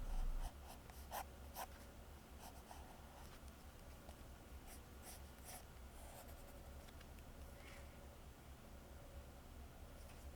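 A purple pencil scratches across sketchbook paper in short, brisk strokes and taps, close and quiet, with small pauses between bursts of drawing.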